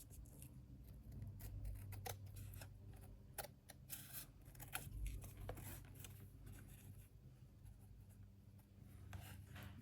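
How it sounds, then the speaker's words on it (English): Scissors cut around paper cards in close, quiet snips and slicing rasps, irregular and intermittent over about ten seconds, with soft paper handling between cuts and no talking. "So let me just now cut around my cards."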